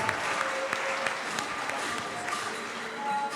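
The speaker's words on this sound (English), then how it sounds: "A round of applause for our speakers." A crowd applauds for speakers in a campus great hall, with scattered clapping, a dense patter of hands at moderate distance, with some voices mixed in.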